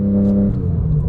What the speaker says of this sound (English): floor the gas with the right foot, it revs up